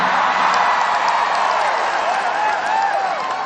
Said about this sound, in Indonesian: Kok tepuk tangannya paling keras nih